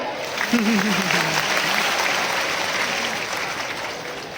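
Crowd applause at a large Bhagwat katha gathering in Bilaspur, a dense wash of clapping that holds steady throughout, with a sung or spoken voice briefly rising near the start.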